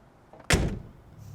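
A Volkswagen car door shuts once with a crisp, solid thud, close and sharp, against a quiet background.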